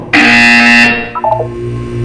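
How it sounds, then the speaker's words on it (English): A loud electronic buzzer from the video game Portal 2 sounds once in a sustained tone of nearly a second, followed by a short, quieter descending chime, with a low hum beneath. "You will hear a buzzer. When you hear the buzzer, look down at the floor."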